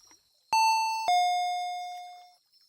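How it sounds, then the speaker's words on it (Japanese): An intercom doorbell chime rings indoors with two clear, sustained tones, a higher note followed by a lower one that fades slowly, with nothing else heard. "インターホンが鳴りました。"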